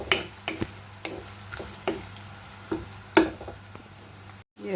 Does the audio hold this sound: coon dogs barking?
no